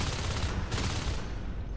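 Rapid, dense gunfire in the video game Natural Selection 2 on the Summit map, a continuous loud burst of automatic shots, close and unbroken, with no talking.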